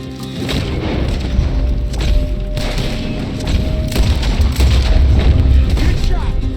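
Heavy booming gunshots ring out in a Red Dead Redemption 2 frontier shootout, several thudding reports spread across the scene over a loud, dense battle bed, with voices calling out between them.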